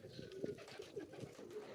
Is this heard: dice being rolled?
no